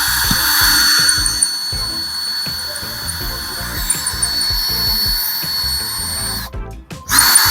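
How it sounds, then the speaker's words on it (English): A power drill with a worn-out bit grinding into a wall, a steady loud whine with rough, irregular chattering pulses underneath, then a brief cutoff before the motor spins up again. "I'm going to drill like where there's already a hole in the wall"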